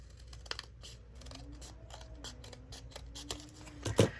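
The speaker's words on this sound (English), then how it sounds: "I still need to trim it. That little corner right there just a little bit." Scissors trimming a small corner of paper on a creative journal page, a series of quiet, close snips and crisp clicks spread over a few seconds, with a louder cut near the end.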